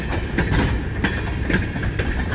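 A freight train of tank cars pulled by two engines rolls past at Emmett, Michigan, its wheels beating a steady rhythmic clickety-clack over rail joints, loud and close with a continuous rumbling undertone.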